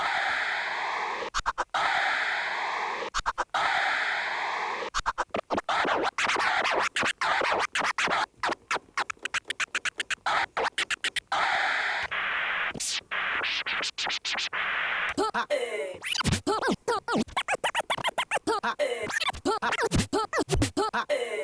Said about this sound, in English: if we hit instant scratch, it's changed to instant scratch